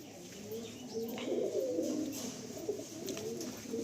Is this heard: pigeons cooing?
yes